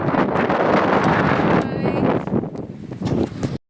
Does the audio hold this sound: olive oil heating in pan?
no